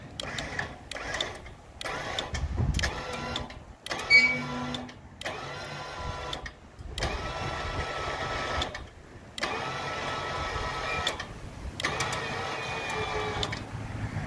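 Electric winch on a homemade log arch hauler lifting a log off the ground, a steady mechanical whirring and grinding that runs in several bursts with short pauses, fairly close and alone without talk.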